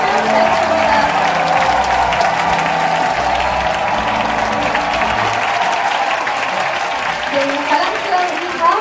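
An indoor audience gives sustained, dense applause for honoured guests at a school event, loud and continuous throughout, with a crowd murmur beneath and a voice audible over it.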